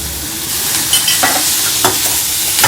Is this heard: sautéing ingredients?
yes